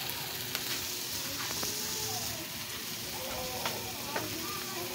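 Miso frying in a pan, a soft continuous sizzle and hiss with occasional light stirring clicks, fairly quiet and close.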